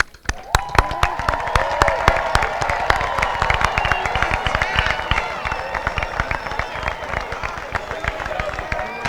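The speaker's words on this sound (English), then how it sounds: "And one final applause for the class of 2018." Crowd applause and cheering for the class of 2018 at a high school commencement, a loud dense wash of clapping with scattered shouts that carries steadily through the whole stretch.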